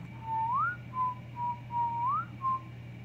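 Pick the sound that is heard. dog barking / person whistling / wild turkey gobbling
person whistling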